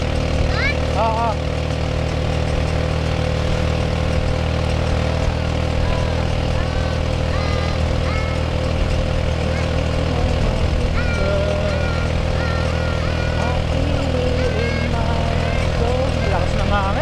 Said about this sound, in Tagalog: Lakas ng hangin po talaga.